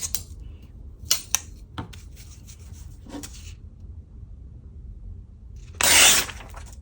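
Scissors snip through paper being trimmed down for a junk journal envelope made with vintage cheques, a few short close cuts and rustles spread across quiet pauses, ending in one louder crinkling rustle.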